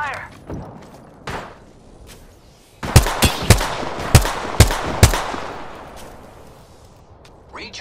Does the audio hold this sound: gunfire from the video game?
yes